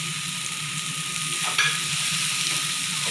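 Chopped vegetables sauté in a hot pan for soybean kheema, giving a steady, close hiss of sizzling oil with a brief scrape of stirring partway through.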